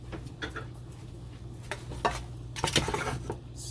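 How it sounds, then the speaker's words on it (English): A spoon stirring hot potato salad in a bowl or pan, seasoned with a little salt, giving soft scraping and clinking strokes over a low steady hum, with louder clatter near the end. "Stir it up nicely there. Make sure that all your potatoes are nice and coated."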